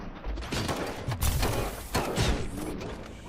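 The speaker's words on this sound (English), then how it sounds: "Am I hearing gunshots?" Gunfire in the Robocop: Rogue City video game, a rapid series of sharp cracking shots and thuds in dense bursts, loud and close throughout.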